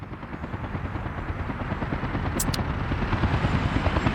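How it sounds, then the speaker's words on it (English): A helicopter in Workers & Resources: Soviet Republic delivers a digger, its steady, loud rotor chop pulsing continuously throughout, with a brief high electronic blip partway through. "Get the digger delivered by a helicopter."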